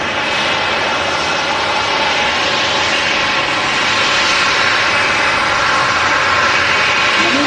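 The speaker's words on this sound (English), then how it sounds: "Great sound there from the 737, vacating the runway onto taxiway Bravo, making its taxi to Terminal 3 here at Manchester." A Boeing 737 jet taxis off the runway at Manchester Airport, its engines making a steady, loud, broadband roar and whine that holds constant throughout, with no talk over it.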